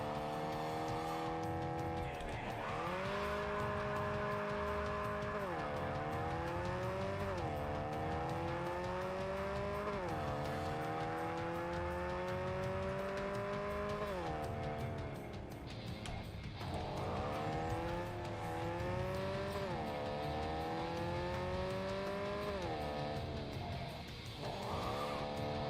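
A car engine revs and climbs through gears in repeated rising sweeps while driving, loud and close, with brief dips between shifts and no talk over it.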